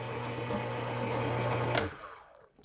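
An electric juicer runs while juicing celery, giving a steady high whirring motor whine that cuts off abruptly near the end and decays to quiet.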